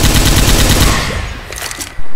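A big gun firing in Left 4 Dead 2 on the Passing campaign, heard as loud continuous rapid gunfire that tapers off, then a sharp loud burst returns at the end.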